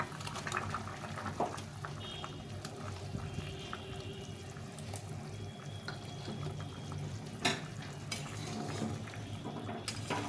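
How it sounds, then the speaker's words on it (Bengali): Bitter gourd pieces added to simmering fish curry broth cooked with red chilli: faint, steady bubbling with soft splashes, pot clinks and one louder plop, all close and quiet. "এই ঝোলটা ফুটে গেছে এখন আমি করলাগুলো দিয়ে দেবো"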